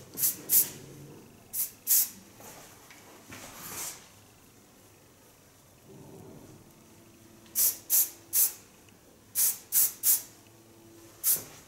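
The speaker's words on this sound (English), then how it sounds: "Use a little bit of hairspray, not too much" Hairspray sprayed onto hair in short, sharp hissing bursts. There are a pair of quick sprays, a longer one, then a run of several quick sprays, close and fairly loud, with some quiet handling noise between.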